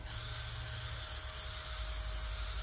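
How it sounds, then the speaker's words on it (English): A spray can of gloss finishing sealer hisses in one continuous burst, close and steady, coating a handmade clock with no talk over it. "We are now going to do it with a spray gloss."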